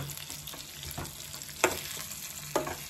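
Eggplants frying in a pan for a Telangana-style masala curry as ground masala goes in, giving a low sizzle with a few sharp scraping stir strokes, close and brief, with no voices.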